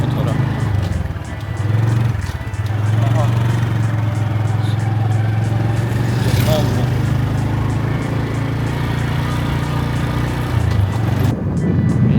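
A heavily loaded motorbike straining on the road in Phuket, its engine a loud, continuous labouring drone that dips briefly and then holds steady, with voices audible over it.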